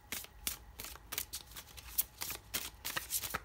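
Tarot cards are shuffled by hand in quick, irregular riffling bursts, close and fairly quiet, with soft papery flicks repeating through the moment.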